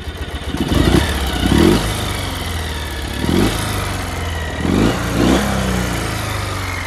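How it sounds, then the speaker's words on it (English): A 2005 Ural Troyka motorcycle engine idles with a low thumping rumble, then gets revved in four or five short blips, each rising and quickly dropping back to idle. "Get it idling here, and then we'll give her some revs."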